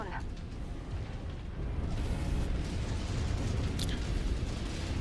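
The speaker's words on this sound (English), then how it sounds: "Reactor explosion imminent." A mech's reactor explodes in the game MechWarrior 5, a loud low rumbling boom that swells and sustains throughout, with a voice speaking over it.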